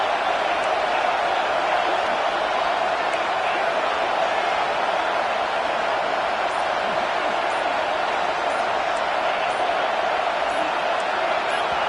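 Stadium crowd in a football video game, a loud unbroken roar of massed voices holding steady throughout, with a commentator talking over it.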